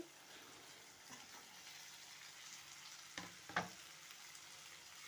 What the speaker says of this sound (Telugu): ఇప్పుడు టమాటా కూడా వేస్తున్నానండి